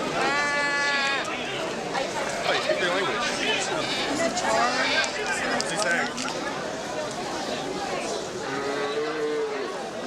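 Goats bleating at a busy goat market, several wavering calls rising over a constant crowd murmur with people chattering close by.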